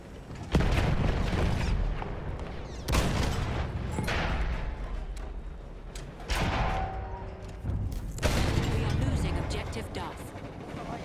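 Battlefield 1 gunfire on a foggy front: repeated heavy booming shots and rapid bursts roll in loud, close waves, with a voice talking at times among them.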